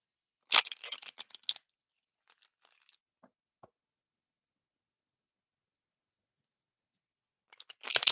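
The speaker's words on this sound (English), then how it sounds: "Let me give you a good shuffle here." Tarot cards shuffled by hand during a live reading: a quiet, crisp riffling burst at the start, a long hush with a few faint ticks, then another short riffle at the end, with no talking.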